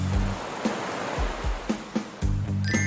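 Ocean waves wash onto a beach in a steady rushing hiss, with a few soft low thumps and faint tonal bits mixed in.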